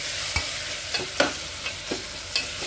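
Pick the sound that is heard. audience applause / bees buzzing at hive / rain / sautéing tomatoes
sautéing tomatoes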